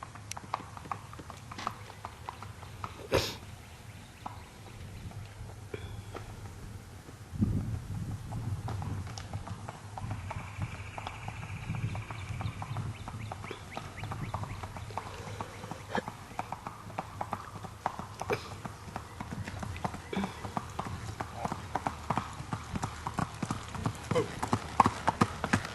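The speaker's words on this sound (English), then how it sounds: "this gait is not the smoothest that this mule will have" A gaited Missouri mule under saddle, its hooves beating out a steady, fairly quick clip-clop on the ground throughout, moderately distant, with occasional voices faintly in the background.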